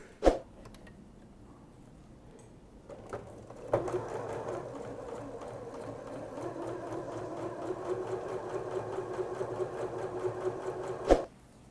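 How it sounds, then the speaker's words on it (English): A Janome sewing machine stitches fabric with quarter-inch seams, its steady mechanical whirring running continuously after a brief start, loud and close, with short clicks at the beginning and end. "I'm just going to pop a couple of pins in here and then sew with 1/4 inch seam allowances."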